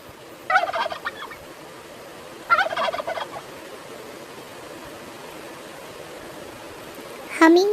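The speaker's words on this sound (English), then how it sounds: "turkey, turkey या Peru," Turkey gobbling in three bursts: two rapid rattling gobbles early on, then a third gobble near the end.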